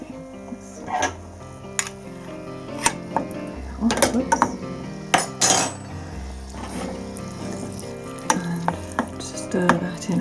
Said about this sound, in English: stir that in again gently